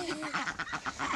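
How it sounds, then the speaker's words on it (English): Ducks quack in a yard, a rapid run of about six or seven close, raspy calls packed into a second, loud and with no one talking over them. "Or the ducks are not happy with me."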